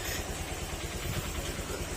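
A Honda Click 125 V3 scooter engine running after being started in a repair shop, a steady mid-pitched idle with a continuous rough, clattering hum, close and fairly loud with no talk.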